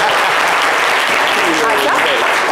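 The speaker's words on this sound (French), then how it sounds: "On applaudit plus là." Continuous audience applause filling a live radio or TV studio show broadcast, loud and steady throughout with no break.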